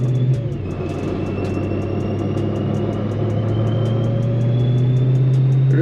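BMW E92 M3 with solid motor mounts cruising at about 2,000 RPM, a steady low engine drone and road rumble from inside the car, with faint ticking over it and no talk.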